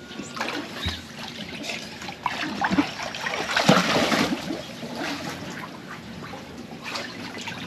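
Water trickling and splashing as it flows into a shallow swimming pool being topped up, a steady close burble with brief louder splashes in the middle.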